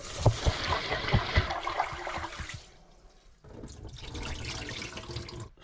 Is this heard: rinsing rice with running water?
yes